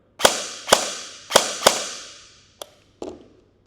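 A Double Eagle DMP-9 airsoft gun fires six sharp, loud shots with its bolt catch held, four in fairly quick succession and then two quieter ones after a pause, each ending in a short decaying tail.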